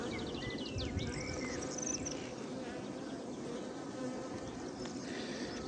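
Honeybees work on comb inside an open beehive, producing a close, steady insect hum and buzz, with a few brief higher buzzes of individual bees passing near.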